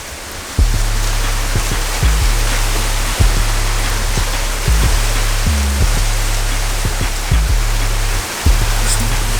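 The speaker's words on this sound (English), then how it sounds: "And it's super windy." Strong wind roars steadily outdoors with rain hissing across the surface, punctuated by heavy low buffeting gusts hitting the microphone every second or so, loud and close with no talking.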